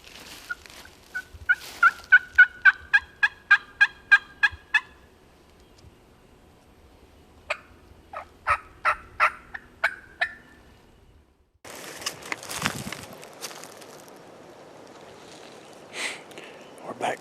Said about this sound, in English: That gobbler was in here this morning.